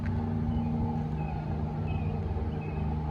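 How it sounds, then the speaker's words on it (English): A low, steady engine rumble with a droning mechanical tone, a truck's jake brake on a main road some distance away, heard from a campground in Fort Boonesborough State Park, Kentucky. "you can hear the Jake brake"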